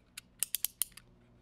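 A pair of scissors makes a quick run of about six crisp, clicking snips while cutting craft paper for a noodle rocket fin, close and dry with short gaps between cuts, then quiet.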